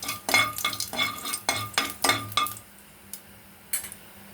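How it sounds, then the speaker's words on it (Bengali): Whole black cumin and radhuni stir in hot oil for a homemade kakrol curry. A metal spoon scrapes the pan in rapid, clinking strokes, then a quiet gap follows and two last taps close it out. "একটু নেড়ে দিচ্ছি বন্ধুরা।"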